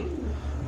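A brief low coo from racing pigeons in a loft, close and soft, against a muffled background.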